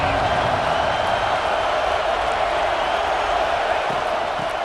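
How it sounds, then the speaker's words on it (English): Stadium crowd at a college football game in EA Sports College Football 26 roars as a continuous, dense wall of cheering and noise, loud and unbroken throughout. "This crowd ready to make its presence known."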